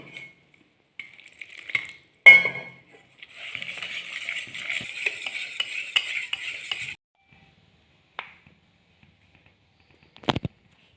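Egg bajji batter being stirred in a bowl, with a sharp clink near the start, a steady run of close whisking and scraping, then quiet with a few soft taps and a final clatter.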